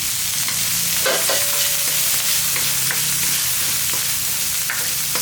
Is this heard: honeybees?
no